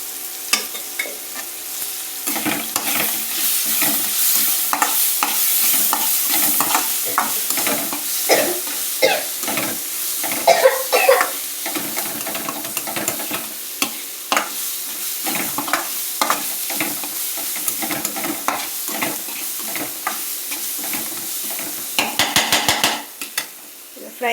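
Onions sizzle in hot oil in a pan while being stirred for egg burji, a steady frying hiss broken by repeated scraping strokes of a utensil against the pan.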